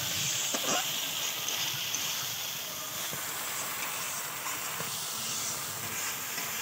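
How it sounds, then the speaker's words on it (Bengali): Spice paste for Bengali bata fish curry with mustard and poppy seed sautéing in oil, a steady hissing sizzle that holds throughout with a few faint clinks, and a voice talking softly over it. "দেখো মশলাটা আমার প্রায় কষানো হয়ে গেছে, দেখো গা থেকে তেলও ছাড়ছে"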